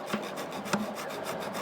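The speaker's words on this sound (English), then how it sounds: "Filing off the ridges and put it back together." A file rasping ridges off a boat motor's slip ring: steady close scraping strokes with two sharper accents, no talking.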